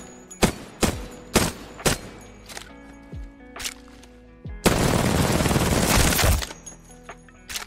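Video game gunfire at a firing range, loud close single shots spaced irregularly with ringing tails, then a sustained burst of rapid automatic fire lasting nearly two seconds before trailing off.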